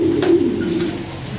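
Pigeons at a dealer's loft selling European-bloodline Lahori and racer pigeons coo in a close, steady low murmur that runs through the whole moment, loud with no talk over it.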